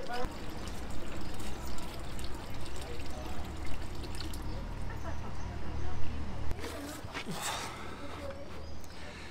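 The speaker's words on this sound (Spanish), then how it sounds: "Tengo una botella de agua y la voy a llenar." Water streams steadily into a bottle from a fountain, a continuous close pour that shifts in tone near the end.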